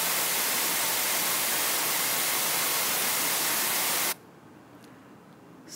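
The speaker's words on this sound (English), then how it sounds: "here is a cancerous cell, which will sound a lot like white noise" Steady, loud broadband hiss like static, a sonified cancer cell, fills the first four seconds, then cuts off abruptly to near silence.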